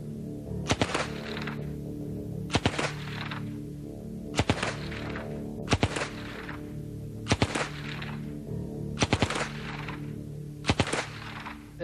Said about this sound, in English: There's not very much kick to a Sten.